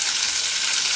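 Bacon frying in a pan for coq au vin, a dense continuous hissing sizzle heard close and steady.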